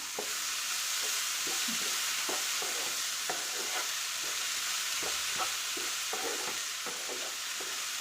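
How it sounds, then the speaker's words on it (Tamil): A tempering for boiled horse gram sundal sizzles in a pan with a constant hiss, broken by irregular scrapes and taps of a stirring spoon, close by and with no voices. "இது மட்டும் தாளிச்சிக்கலாம்"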